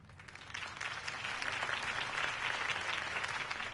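Crowd applause after a campaign speech in a Batman video game, a dense, steady wash of clapping that holds at an even level for the whole stretch.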